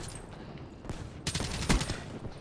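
Assault rifle fire in Call of Duty Black Ops 3, with several loud, sharp bursts of automatic shots clustered in the second half, heard over a constant game background with no talking.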